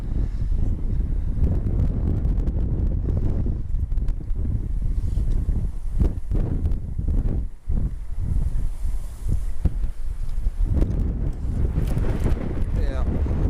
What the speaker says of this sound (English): The wind is still blowing pretty darn good, making it difficult to even get a decent cast.